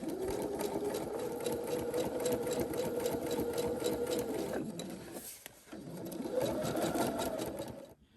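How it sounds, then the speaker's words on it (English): A sewing machine stitches a quilt block seam in a steady, fast mechanical whir that dips briefly and pauses near the middle, then resumes and stops at the end. "from the opposite end continue sewing the same way, 1/4 inch away from your original drawn line"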